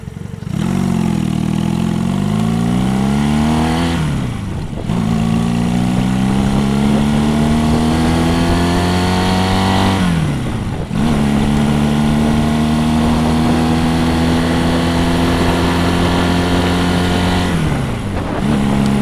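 An older motorcycle engine drones steadily while riding on rough roads behind a truck in traffic, rising in pitch through each gear and dipping briefly at the shifts, loud and close, with no talking.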